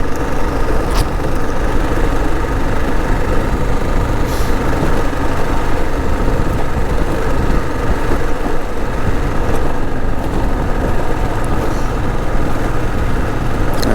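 Motorcycle engine running steadily at about 3,000 rpm while riding near the Botswana border, a continuous loud drone with wind rush and no pauses throughout.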